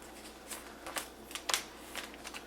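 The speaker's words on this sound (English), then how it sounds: "So maybe take out these cards." Glossy K-pop photocards slide and flick out of an album's sleeves in a quick, light run of soft plastic-card clicks and rustles, close and fairly quiet, with no talking.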